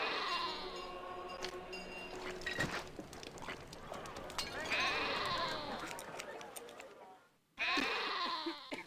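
Sheep bleat repeatedly in a city builder video game, several overlapping calls layered over busy game ambience and clattering effects, loud and continuous, with a brief dip near the end before the bleating resumes.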